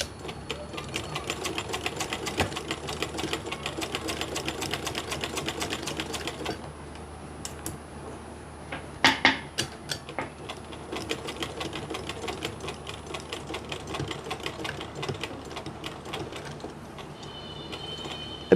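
A sewing machine runs in steady rapid bursts while stitching the neckline of a kameez, with a brief pause and a clatter of handling near the middle before the stitching resumes, close and clear with no talk.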